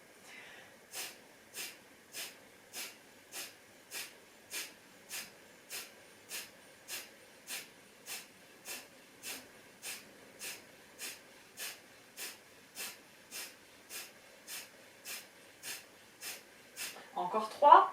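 Forceful yogic breathing with sharp, rhythmic exhalations through the nose, about two dozen evenly spaced bursts, close and clear, ending in a deeper inhale.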